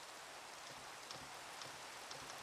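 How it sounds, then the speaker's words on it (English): Rain falls in the Minecraft video game as a steady, soft hiss of drops, faint and continuous with no voices. "Started raining out of nowhere"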